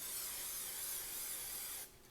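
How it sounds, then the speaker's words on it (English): A steady hiss of nonstick cooking spray from an aerosol can onto a 9x13 baking dish, sprayed continuously for about two seconds before it cuts off. "I am going to spray this with some nonstick spray"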